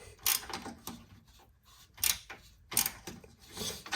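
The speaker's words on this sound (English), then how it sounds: "I can get my little 12 mil on here on a 1/2 inch drive." A ratchet on a 1/2 inch drive with a 12 mm socket loosening bolts on a Toyota 4Runner, giving short clicking bursts separated by pauses, close and moderately loud with no talk.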